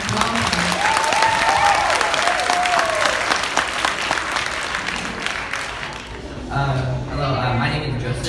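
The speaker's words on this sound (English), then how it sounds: "So let's first of all give them a really big round of applause." A school assembly audience claps loudly for students who play percussion instruments, a dense, sustained applause that runs the full length before easing slightly near the end, with a few voices mixed in.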